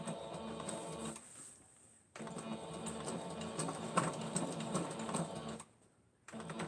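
A sewing machine stitching house slippers runs in a fast mechanical chatter for about a second, pauses, then runs again in a longer stretch before a second short pause and restart, fairly close and steady.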